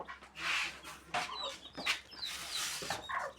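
Several chickens cluck in short, overlapping bursts, fairly close, with a few higher peeps mixed in and no talking.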